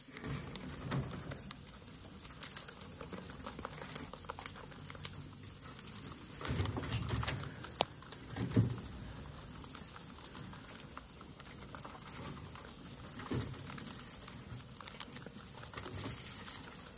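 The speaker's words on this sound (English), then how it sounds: "I want you guys to listen to them munching." Animals munch on food nearby, a faint, irregular crunching and chewing that comes in small bursts over a quiet outdoor background.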